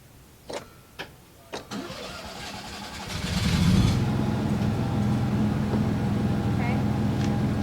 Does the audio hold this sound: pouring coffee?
no